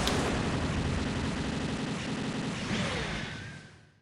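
Heavy chest cannon fire from the Gundam Leopard Destroy in SD Gundam Online rumbles in a dense, continuous barrage that slowly fades away.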